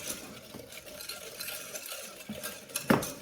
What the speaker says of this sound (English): We're gonna whisk it up until all this sugar dissolves and we have this pretty light colored sugar and egg.